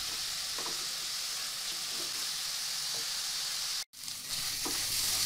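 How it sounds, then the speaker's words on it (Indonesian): Spice paste with crushed galangal and bay leaves sautés for Indonesian vegetable lodeh, giving a steady, close sizzle and hiss with faint stirring scrapes and one brief dropout near the end. "Masukkan juga lengkuas yang sudah digeprek dan daun salamnya. Tumis sampai airnya menyusut"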